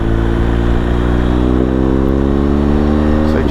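A BMW R 1250 GS TE motorcycle accelerates hard, its loud, steady engine note climbing in pitch through the gear changes, heard close up with no talk.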